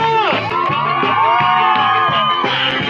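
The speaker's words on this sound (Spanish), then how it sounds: "Que se escuche el grito de la banda." A crowd at a university celebration shouts and cheers loudly and continuously, with overlapping voices and whoops close by and filling the space.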